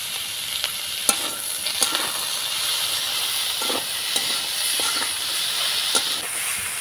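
Vegetables for veg patties sizzle and hiss steadily in a kadai, with a spatula scraping and stirring in scattered sharp clicks throughout; no one speaks.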